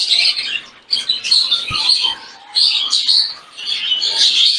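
Birds chirp and tweet busily in bursts of high, rapid calls, close and loud, with no talking.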